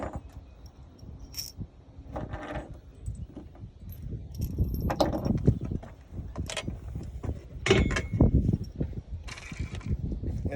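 Metal lock nuts, lock washers and flat washers for an antenna mounting bracket clink and rattle in handling, with scattered close jangles and scrapes over a steady rustle.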